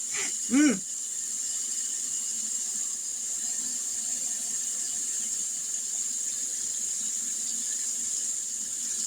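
Tap water running steadily into a cooking pot of beans on a kitchen stove, a constant close hiss and splash, with a brief louder burst near the start.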